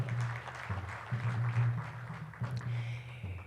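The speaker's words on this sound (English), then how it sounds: "we should applaud you for your work." Audience applause at an education-sector jubilee celebration launch in Uganda, sustained moderate clapping from a crowd heard somewhat distantly, filling the short stretch without talk.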